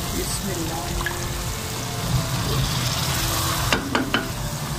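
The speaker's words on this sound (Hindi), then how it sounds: "अब हम इसमें दही ऐड कर देंगे।" Beef sizzling and frying in a pot for pulao as yogurt is stirred in, a steady wash of hiss and crackle with a few sharper clinks of a spoon near the end.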